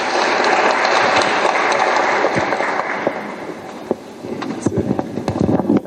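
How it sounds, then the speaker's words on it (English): Audience applause in an assembly hall, a dense loud wash of clapping that gradually thins into scattered claps and some voices. "Let's applause"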